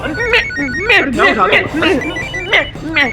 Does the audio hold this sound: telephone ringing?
yes